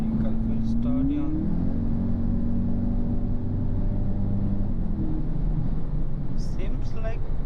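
A synthetic engine startup tone from a 2026 Audi Q3 S line e-Hybrid played through its speakers: a rising whine that settles into a steady layered hum, with faint voices in the background.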